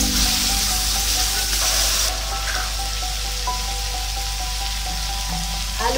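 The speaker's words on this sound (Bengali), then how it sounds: "এক মিনিট ধরে একটু ভেজে নিয়েছি আলুটা পোস্তর সঙ্গে।" Potatoes fry with poppy seeds in a pan, a loud continuous sizzle that softens as rinsing water is poured in, then settles into a steady bubbling hiss.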